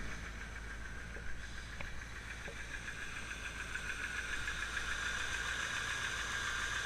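A 1985 Corvette with a 383 engine sits at a steady high idle, a continuous low rumble with faint ticking, heard close and alone.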